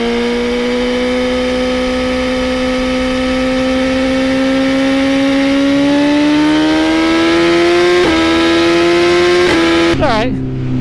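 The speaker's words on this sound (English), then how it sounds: "It sounds amazing. I mean, just everything about this bike is awesome." A BMW S1000RR motorcycle engine revs loud and close, its pitch climbing steadily before sharp blips and a quick drop near the end.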